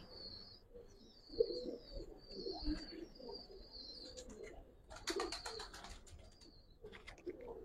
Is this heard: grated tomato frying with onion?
no